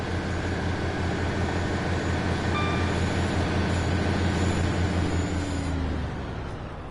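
Diesel train engine in Train Sim World 5 on the Cardiff City network, roaring steadily at high revs as it pulls away, a loud sustained drone that rises slightly and then eases off near the end.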